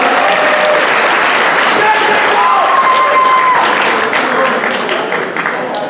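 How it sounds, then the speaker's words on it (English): A school assembly audience applauding steadily for several seconds, dense clapping with a few voices mixed in. "All right, round of applause for Jacob"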